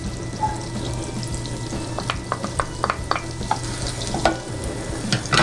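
Shallots frying in a hot pan for a quiche, giving a steady bed of sizzle with occasional sharper crackles and pops. The sound is close and continuous throughout, and there is no talking.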